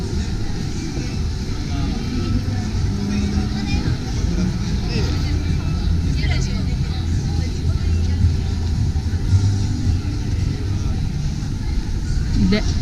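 Busy evening street traffic in Ikebukuro, Tokyo, with cars and buses passing in a continuous hum and rumble, people talking over the traffic noise.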